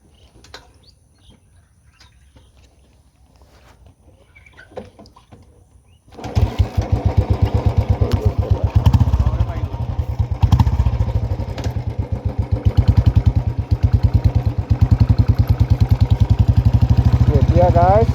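A Royal Enfield motorcycle engine starts after a few seconds of quiet rustling, then settles into a loud, close, steady thumping idle that pulses evenly to the end.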